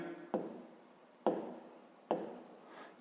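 Numbers are written down by hand in three separate sharp strokes, each a quick scratchy attack fading out, spaced about a second apart in a quiet room.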